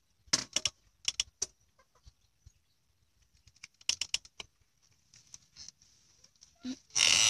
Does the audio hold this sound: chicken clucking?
yes